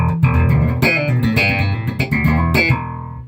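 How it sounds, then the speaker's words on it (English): Bass guitar with new strings played in a quick riff of plucked notes, bright and twangy with sustained low tones and a few sharp attacks, alone and close. "their bass sounds like this when they get it"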